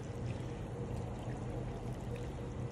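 Chicken broth mixed with water poured into a cooking pot for cabbage, a continuous, moderately loud splashing stream from start to finish.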